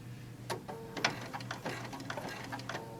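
A longarm quilting machine stitches through a quilted bag, with quick mechanical ticking and rattling needle strokes in an uneven rhythm, heard close up.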